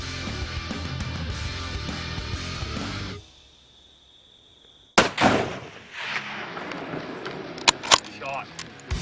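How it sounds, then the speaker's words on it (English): A rifle shot rings out on a hog hunt, a sharp loud crack after a near-silent pause, followed by further bangs and clatter with voices talking. "Shot. Great shot."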